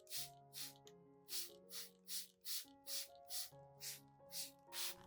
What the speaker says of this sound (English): Be sure to spray both the top and underside of the leaves